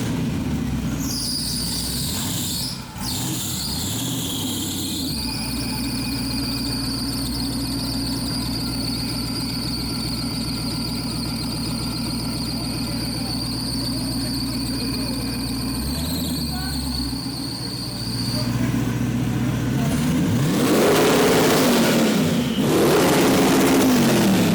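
A 1927 T-bucket rat rod with a twin-turbo LS engine squeals and whines as it revs hard for a long stretch, then swells into a louder roaring burst near the end, with voices mixed in.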